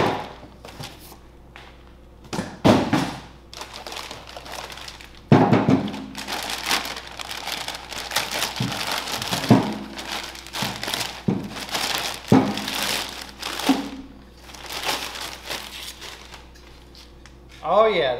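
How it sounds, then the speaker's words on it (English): Plastic wrapping crinkles and tears as it is pulled off a Holley Hi-Ram intake manifold for a third-gen Hemi, in close, uneven bursts of rustling with short pauses between pulls. "We're gonna get the plastic off of this girl."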